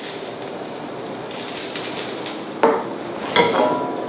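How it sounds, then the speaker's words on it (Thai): Soft crackling hiss of olive oil heating in a hot pan, with two sharper sizzling bursts near the end as something hits the hot surface. "ผมเร่งไฟให้ร้อนขึ้นมานิดนึงแล้วนะครับแล้วผมก็ลงน้ำมันมะกอก"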